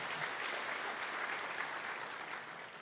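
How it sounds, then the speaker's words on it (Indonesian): Faint, distant applause from a church congregation for Jesus, a soft continuous patter of many hands with no clear individual claps. "Kasih tepuk tangan bagi Tuhan Yesus."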